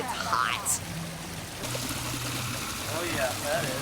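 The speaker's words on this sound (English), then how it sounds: "So it's like a natural waterfall coming out here" Natural hot spring water at 143 degrees cascading out of the rock in Arkansas, a steady close splashing rush under voices talking throughout.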